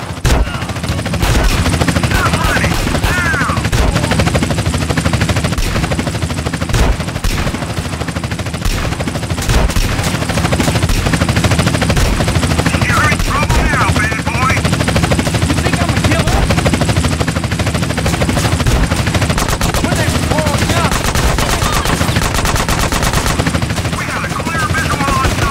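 A helicopter drones overhead in Grand Theft Auto San Andreas Remastered on PC while near, loud gunfire and machine-gun bursts crackle almost without pause throughout.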